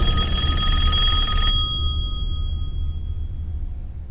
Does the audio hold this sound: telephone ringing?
yes